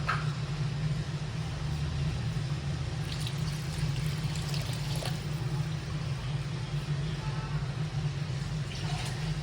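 Water pours steadily into a pan of fish curry paste, a continuous close trickle over a low background hum.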